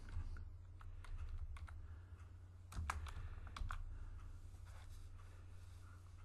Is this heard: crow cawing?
no